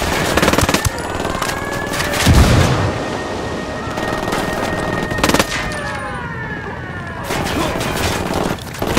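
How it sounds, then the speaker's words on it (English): Heavy gunfire in the Ghost Recon Wildlands video game during a firefight at a lab: loud rapid automatic bursts and a deep boom, with shouted voices over the shooting. "Taking fire from inside the lab."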